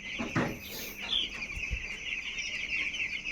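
Chickens in a poultry farm shed at night on a foggy winter night under red heating bulbs, with soft scattered clucks and a few brief calls at a moderate distance over a faint steady hum.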